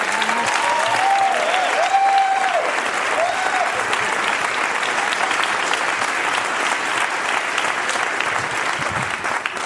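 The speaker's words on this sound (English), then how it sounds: "You cannot keep applauding" A comedy club audience applauds a stand-up comedian in a continuous loud roar of clapping that carries on steadily throughout, with some voices and cheers rising briefly early on.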